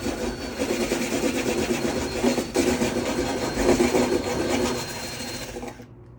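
Steady grinding of a step drill bit chewing through a metal roof-rack bracket on a Jeep Wrangler JK, continuous and fairly loud, with a brief shift midway before cutting off abruptly at the end.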